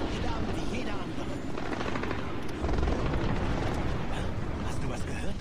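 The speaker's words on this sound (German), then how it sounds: "Hast du was gehört? Schüsse, Explosion." Gunfire and an explosion in the video game Splinter Cell Blacklist, a dense continuous roar of blasts and rumble with crackling bursts and a heavier swell midway.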